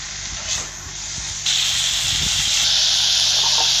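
Onions sautéing in a pan for Tamil-style paneer butter masala, with a steady hiss of frying that grows louder partway through and holds, plus faint scraping and clatter beneath.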